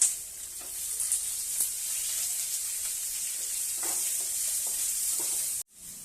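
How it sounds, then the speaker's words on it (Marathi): Chopped onion and curry leaves sauté in a pan, a steady close sizzle with occasional stirring scrapes, ending in a brief cut near the close. "आता आपण हे सगळं छान असं परतून घेऊया"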